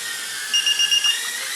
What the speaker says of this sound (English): whichever way you move the right stick while you're holding that, you hear it beeping